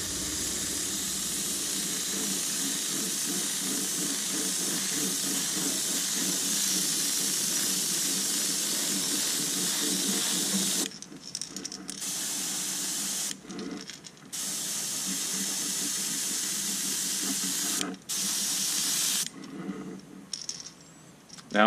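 Spray gun laying down a heavy third and final coat of color shifting paint, a steady close hiss running for several long passes, broken by a few short pauses where the trigger is released before spraying resumes.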